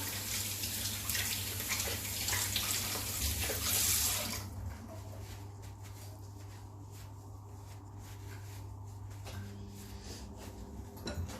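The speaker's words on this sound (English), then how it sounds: "now I'll just quickly wash my hands and show you." Tap water runs into a kitchen sink during handwashing, a steady rushing splash for about four seconds that then cuts off, leaving quiet room noise and a faint clink.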